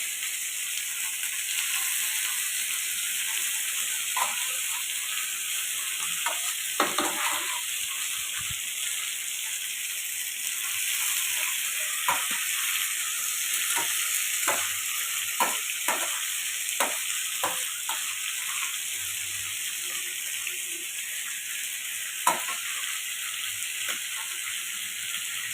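Boiled, unpeeled ginger chunks fry in a pan with a steady, close sizzle, broken by the scrape and clatter of stirring, and nobody talks.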